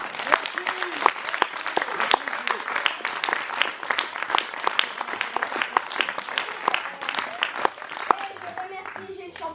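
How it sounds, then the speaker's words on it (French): An audience claps for young performers after a youth theatre show, a steady scattered round of applause with voices murmuring underneath throughout. "vous pouvez encore les applaudir une dernière fois"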